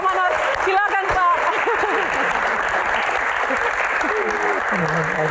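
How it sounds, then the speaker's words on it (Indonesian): Audience at a talk-show Q&A applauding steadily for several seconds, dense clapping with voices and a few shouts on top near the start. "Tepuk tangan buat Pak Manoj."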